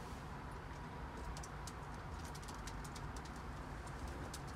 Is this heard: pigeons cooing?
yes